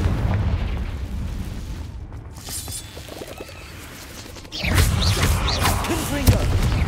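A Confringo blasting curse bursts in Hogwarts Legacy, a deep booming explosion that swells suddenly after a quieter rumbling stretch, with a spoken voice heard briefly.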